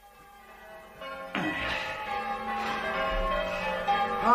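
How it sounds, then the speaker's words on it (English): Church bells peal from a belfry, with a dense, ringing tone that swells in strongly after a quieter start and keeps sounding steadily without any talk. "we shall continue to ring the bells, my dear, for another few minutes or so"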